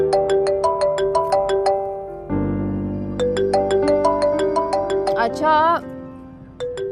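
A melodic phone ringtone repeats its bright chiming pattern loudly, with a brief voice cutting in midway before the tune resumes.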